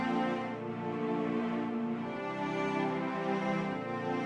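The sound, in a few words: sustained cello over piano, Flex Essential Strings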